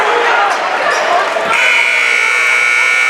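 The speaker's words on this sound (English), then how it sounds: "And I think that at the buzzer was Remy Juani." A loud, sustained electronic buzzer sounds at a high school boys' varsity basketball game in Portland, going off midway through the clip over continuous crowd noise and shoe squeaks.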